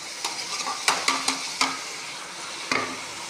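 Sliced tomatoes and curry leaves sauté in a pan for a cabbage omelette. A steady sizzle runs under several sharp clinks of a spatula against the pan, spaced irregularly and close by.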